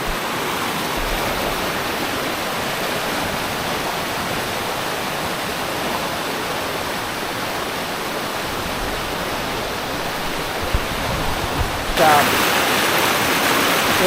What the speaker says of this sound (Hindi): तो यहाँ पे आ रखा है बहुत बड़ा गदेरा।